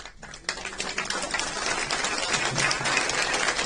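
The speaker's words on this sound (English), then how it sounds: "let's please keep that round of applause going for Ira's heart" Dense audience applause fills a memorial service hall, steady and sustained throughout, building slightly toward the end with no voices above it.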